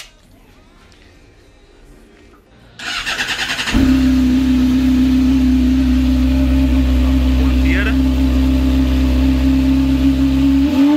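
A Honda Hornet motorcycle fitted with a custom exhaust tip starts up and settles into a loud, steady idle with a deep, sustained engine drone, preceded by faint handling noises.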